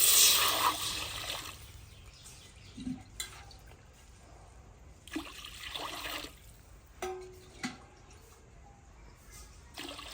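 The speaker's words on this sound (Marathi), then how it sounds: "कढई पण तापलेली त्याच्यात आता पाणी टाकून घेऊ" Water splashes and pours into a hot kadai on a wood-fired stove in several short bursts with gurgling pauses between, close by, ending in intermittent drips and trickles.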